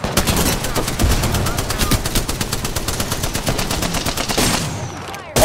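Rapid automatic gunfire from a weapon in the video game Apex Legends: loud, fast, evenly spaced shots rattle on continuously for about five seconds, then cut off briefly near the end.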